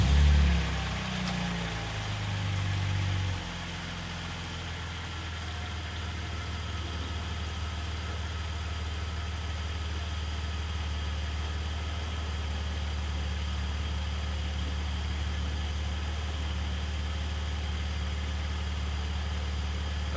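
A 1999–2005 BMW E46 engine idles steadily after an oil change, a steady low rumble that settles after a brief louder start and runs evenly and close throughout.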